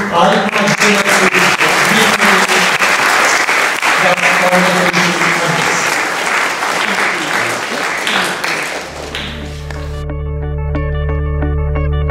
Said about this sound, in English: Now, with a loud applause, let us welcome beloved